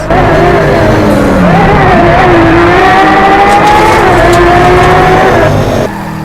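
Racing cars speed along a track in the Driveclub VR racing game, their engines droning loud and steady with pitch rising and falling through gear shifts, continuous for several seconds before dropping off abruptly at the end.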